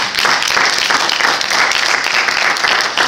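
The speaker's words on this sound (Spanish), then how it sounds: "Alguien dele palmas al Señor" A church congregation claps together during a Spanish-language sermon, steady loud applause that stays dense and continuous throughout with no voices standing out.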